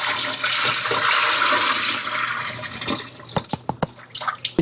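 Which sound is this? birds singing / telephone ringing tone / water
water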